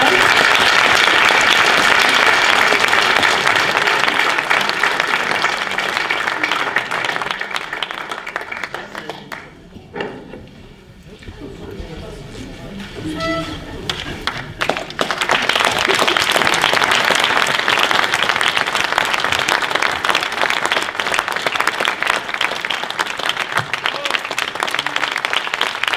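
Sustained audience applause fills an evening stage event in a theatre or hall, loud and dense throughout, dipping briefly midway before swelling back to full strength.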